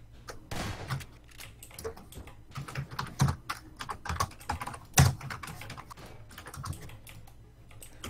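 Rapid clicking keystrokes on a computer keyboard, irregular bursts of taps with a few louder key hits, close and clear with no talk over it.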